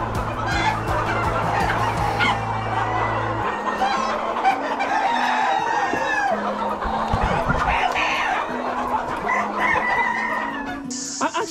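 A flock of free-range chickens clucks and crows on a hillside farm, many overlapping calls near and far, with a low hum at the start and faint voices in the background.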